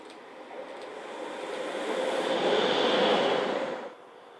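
Locomotives 85008 and 009 on a light engine move between Brig and Domodossola, a steady rail rumble and rolling hiss that builds gradually, peaks, then drops off sharply near the end.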